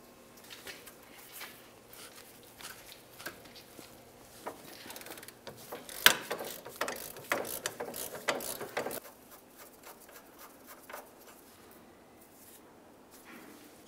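A ratchet works a 24 mm nut off the track bar where it meets the top of the differential on a 2003-2011 Mercury Grand Marquis, giving bursts of quick clicking pawl strokes that peak midway and fade toward the end.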